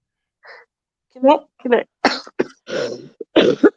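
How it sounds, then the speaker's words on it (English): Several harsh coughs in quick succession, close and loud, with a throat-clearing sound among them. "Why you coughing, man?"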